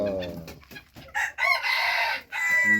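A serama chicken, a small ornamental bantam kept at home, crows a shrill drawn-out cock-a-doodle-doo in two close phrases, loud and near with little else around.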